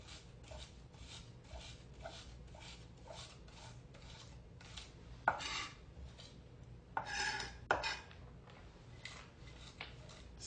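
Knife blade scraping and grinding salt into minced lamb and beef on a cutting board for kofta, a quiet rhythmic rasping of repeated strokes with a few sharper knocks of the blade.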